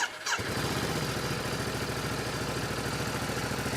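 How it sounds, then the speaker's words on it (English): A warmed-up Ducati DesertX Rally motorcycle starts with a brief crank and catches at once. It settles into a loud, steady, throbbing idle close by. "Speaking of horsepower, let's see what happens when we start this thing up."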